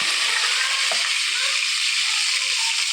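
Green chillies frying in hot oil with tempering seeds, a loud constant hiss and crackle of sizzling with occasional soft stirring scrapes, close up and steady throughout.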